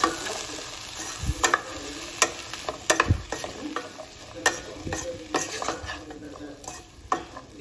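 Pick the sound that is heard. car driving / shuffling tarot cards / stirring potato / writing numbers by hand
stirring potato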